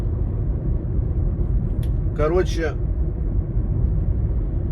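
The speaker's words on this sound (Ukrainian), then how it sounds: "Запустив машину, щоб трохи охолонуть." A car engine idles steadily with a check-engine warning lit, making a continuous low rumble throughout. Someone speaks briefly over it midway.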